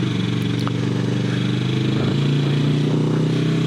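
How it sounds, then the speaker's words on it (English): Yamaha R3 motorcycle engine droning steadily up close, its pitch stepping down partway through as the rider downshifts, with wind noise over the continuous tone. "Listen to those crispy downshifts, people."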